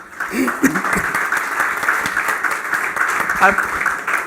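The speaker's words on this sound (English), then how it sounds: "give Peter a nice round of applause, please" Audience at a leadership book launch clapping for Peter, a steady round of applause running throughout while a voice speaks over it and others call out.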